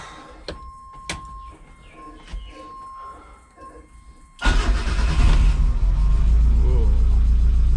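A Hyundai Excel engine cranks and catches with a loud burst, then settles into a rough, uneven idle that rumbles on steadily; quieter clicks and shuffling come before it.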